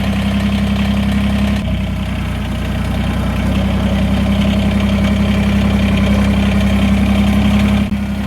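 A tractor engine idles while warming up to operating temperature on a farm, giving a loud, steady low rumble with a brief dip in sound before resuming evenly.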